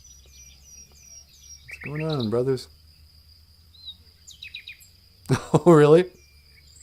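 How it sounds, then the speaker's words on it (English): Birds chirping and calling outdoors on a rainy morning, light repeated tweets in the background while people talk over them. "Birds. Beneshiyug."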